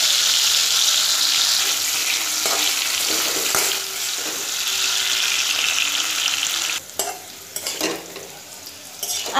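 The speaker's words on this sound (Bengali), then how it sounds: "এবার আলুটাকে দিয়ে আলুটাকে ভেজে নেব।" Potato strips cut lengthwise and coated with salt and turmeric fry in hot oil, giving a steady loud sizzle with occasional stirring clinks, for fish curry; no talking.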